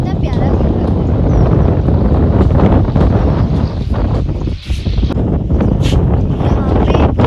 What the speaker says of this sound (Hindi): यहाँ पे बहुत ज़्यादा हवा चल रही है